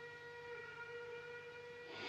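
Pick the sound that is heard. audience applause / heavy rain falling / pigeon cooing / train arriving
train arriving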